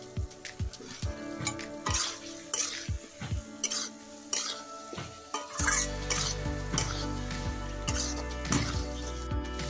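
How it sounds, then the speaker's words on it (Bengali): Fried potatoes go into a pan of cooked spices: a spoon scrapes and clatters against the pan in steady strokes, and a loud, continuous sizzle swells up after the potatoes are added, close and without speech. "মশলা কষানো হয়ে গেছে, এখন দিয়ে দিচ্ছি ভেজে রাখা আলু।"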